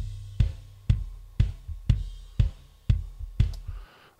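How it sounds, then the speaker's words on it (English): Isolated kick drum track from a cover, steady four-on-the-floor thumps with deep boomy lows, about eight hits at an even tempo, loud and alone with no voices. "So if we get the kick in, which sounds like this."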